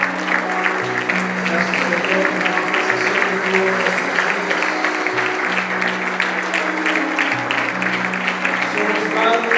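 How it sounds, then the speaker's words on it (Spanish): A church congregation applauds during a Spanish-language service, with steady clapping running under a voice as he prays, while sustained tones that may be music or an organ hold underneath throughout. "aplauso al Señor."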